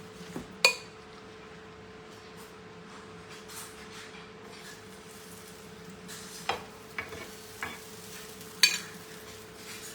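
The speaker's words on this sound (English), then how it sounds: "Make sure you're frying with a low heat." Sweet potato bread fries gently in canola oil over low heat, a quiet steady sizzle broken by a few sharp clinks and scrapes of a frying spoon against the pan.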